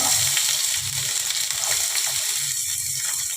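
Chopped onion hits hot oil with cumin, cardamom and cinnamon for a Bengali chicken ghugni, giving a loud, steady, close-up sizzle with faint stirring scrapes throughout.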